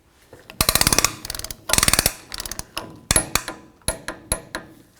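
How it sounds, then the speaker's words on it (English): A torque wrench ratcheting on the rear wheel hub of a 1999–2007 Ford Super Duty F-250, close metallic clicking in fast rapid bursts followed by slower, single spaced clicks, with no talk over it. "We're going to torque this to 60 foot-pounds."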